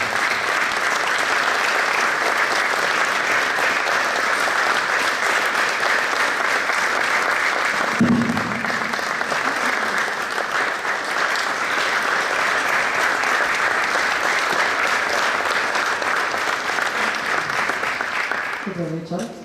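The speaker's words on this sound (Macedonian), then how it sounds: "Еден аплауз молам за минатогодишниот лауреат" An audience at a chamber theatre festival opening applauds last year's laureate, a loud, sustained roar of clapping that runs unbroken for the whole stretch with a brief thump near the middle and a taper at the end.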